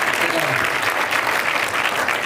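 A dense burst of clapping from a school assembly crowd, steady and fairly loud throughout.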